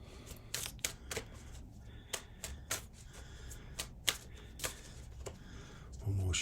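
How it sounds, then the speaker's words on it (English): Tarot cards riffled and shuffled in quick crisp bursts, close up, with a soft low hum underneath and no talking. "One more shuffle."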